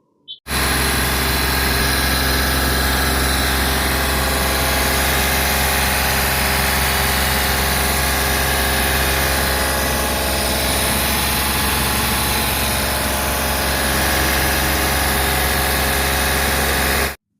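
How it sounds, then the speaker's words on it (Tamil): A car engine comes to life and settles into a steady, rumbling idle, close and loud, running continuously without voices. "பேனட் ஓப்பன் பண்ணி நான் இன்ஜின் ஸ்டார்ட் பண்ணி காமிக்கிறேன்"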